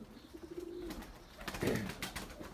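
A white male tumbler pigeon gives a soft, low coo, faint and close, followed by light rustling and shuffling.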